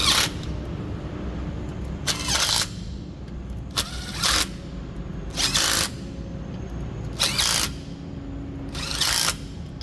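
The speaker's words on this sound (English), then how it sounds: "after that I will run them down lightly with my light impact" A light impact wrench runs down Loctite-treated bolts on the front hub of a Volvo semi truck, firing in five short, loud bursts spaced roughly two seconds apart, with a low shop hum between them.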